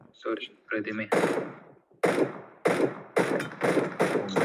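Loud bursts of rapid gunfire come in several separate volleys with brief pauses between, after a short stretch of voices at the start.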